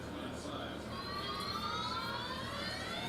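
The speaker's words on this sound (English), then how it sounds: "It's like a siren." Rising siren-like wail heard over a CFL football broadcast, Winnipeg Blue Bombers versus Montreal Alouettes, with sweeping tones above stadium crowd noise while a commentator talks.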